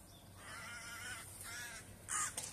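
Crows caw near water, a few harsh calls over faint outdoor background, with one louder, brighter call near the end.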